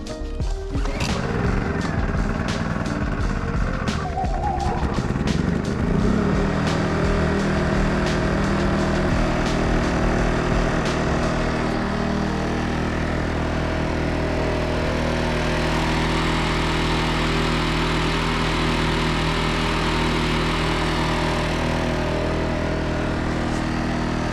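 A Wen 2350W super quiet inverter generator runs after a pull start, giving a steady engine drone with some clattering early on, loud and continuous, with no talking.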